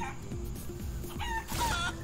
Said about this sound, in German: Das Huhn.